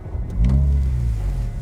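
A 2020 Renault Megane RS Trophy engine catches and fires up close by, a short cranking blip rising into a steady, deep idle burble.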